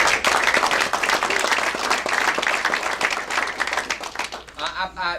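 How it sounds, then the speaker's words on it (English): At a Bartow County GOP gathering, a crowd breaks into loud, dense applause with a few whoops, which tapers off over about five seconds before a speaker's voice returns. "So I think you deserve a round of applause."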